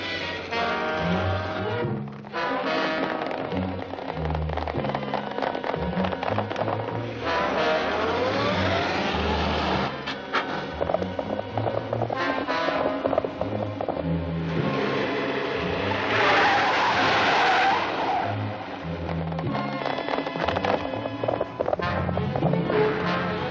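In a classic jungle adventure serial, a car engine revs and drives away with tires skidding, a dense, continuous, loud mix of motor noise and scuffing that persists throughout.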